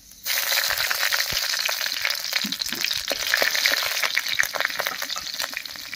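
Panch phoron spices and slit green chillies hit hot mustard oil, bursting into a sudden, steady crackling sizzle that holds at an even level.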